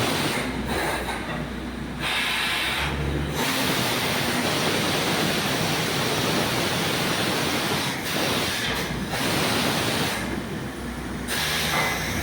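Water gushing forcefully from a side boring into a farm well, a dense, loud, continuous roar like a waterfall that holds steady throughout, with no voices.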